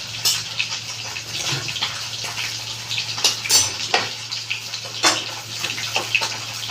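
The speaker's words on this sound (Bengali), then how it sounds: "কড়াই ধুয়ে আবার করতে হবে আমি ধুয়ে নিয়েছি" A kadai (wok) is rinsed and scrubbed with water at a home kitchen sink after frying fish heads, giving intermittent splashes and scraping bursts close by over a steady low hum.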